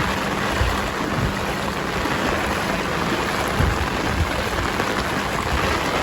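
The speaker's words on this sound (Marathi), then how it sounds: "पाऊस पण अजून थांबत नाही मंडळी." Heavy monsoon rain pours down continuously in Vasai-Virar, a thick roaring hiss with occasional louder splashes, close and loud throughout.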